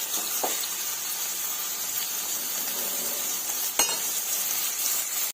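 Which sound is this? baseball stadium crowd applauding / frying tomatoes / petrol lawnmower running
frying tomatoes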